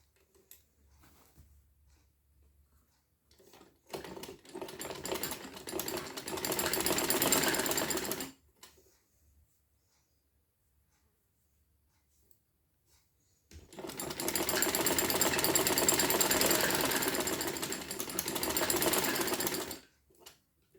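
A sewing machine stitches the side slit of a kurti in two steady runs of several seconds each, separated by a quiet pause, close and loud with no talking.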